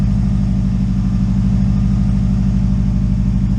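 A 2003 Subaru WRX engine idles on a cold start, running slightly rich, a loud steady low rumble with an even pulsing throb that holds constant throughout.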